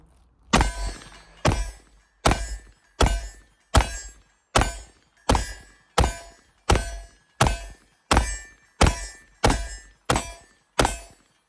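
Magazines from a PSA Dagger are pulled and dropped one after another during a burndown test, making about thirteen sharp thunks at an even, steady pace, each striking cleanly with a brief decay and no talk between them.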